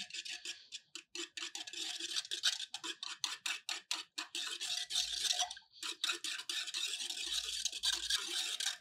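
A drink mixture is stirred in a bowl with a spoon, giving rapid rhythmic scraping and clinking strokes, close and fairly quiet, with brief pauses between bursts and no speech.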